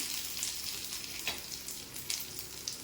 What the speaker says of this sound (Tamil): போட்டு இதை கொஞ்சம் இப்படி வறுத்துடலாம்